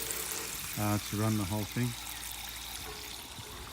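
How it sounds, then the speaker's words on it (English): Water pumped through 4mm holes drilled in a pipe among garden plants gives a continuous hissing rush that runs the whole time, with someone briefly speaking over it near the start. "You can see now the water just pumping through these holes"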